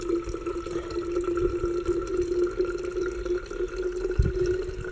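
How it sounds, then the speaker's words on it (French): Water from a soft pouch being pressed through a filter drips and trickles steadily and close, with a faint hum underneath and no talk. "je pousse pour faciliter la filtration"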